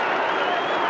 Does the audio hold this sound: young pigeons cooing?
no